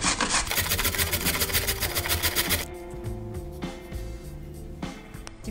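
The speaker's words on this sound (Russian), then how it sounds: "А морковку трем на крупной терке." Rapid rhythmic rasping strokes, loud and close, of carrots grated on a coarse grater, then softer scraping over a low background hum.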